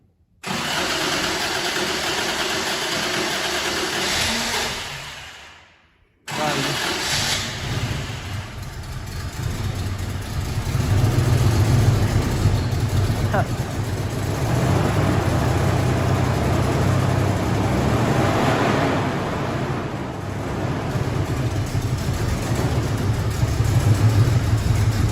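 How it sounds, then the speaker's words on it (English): Car engine with a misfire starts up and runs continuously, loud and uneven, briefly dropping out around five seconds before catching again and carrying on with a rough, lumpy idle. "So we're gonna fire it up and see how well it runs."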